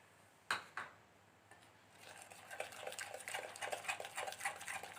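Cardamom powder being stirred into mashed ripe banana in a bowl, with a couple of sharp utensil knocks early on, then a steady run of soft, quick scraping and mixing strokes, close and fairly quiet.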